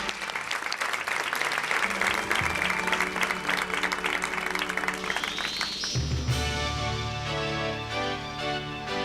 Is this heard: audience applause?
yes